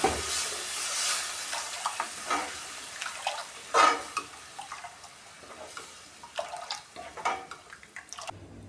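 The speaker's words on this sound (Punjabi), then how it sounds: "ਇਹਨੂੰ ਆਪਾਂ ਘੋਲ ਕੇ ਹੀ ਪਾਵਾਂਗੇ ਇਹਦੇ ਵਿੱਚ ਇਹਨੂੰ ਆਪਾਂ ਹਲਾਵਾਂਗੇ" A spoon stirs gram flour mixture into simmering besan curry in a pot, giving soft wet scraping swirls and light sizzling, faint and close, with no talking.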